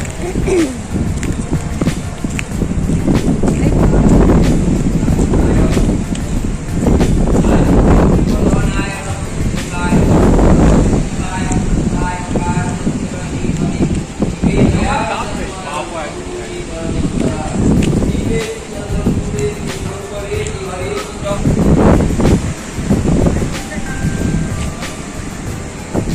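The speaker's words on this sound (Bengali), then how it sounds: "হাওয়া দিচ্ছে কিরকম দেখেছিস?" Strong wind buffets and roars in gusts against the microphone at the seashore in Digha, with surf-like rushing in the background and people speaking intermittently over it.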